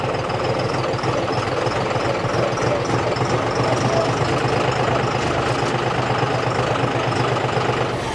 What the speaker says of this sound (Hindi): अब सेकंड गियर के अंदर ट्रैक्टर चल रहा है।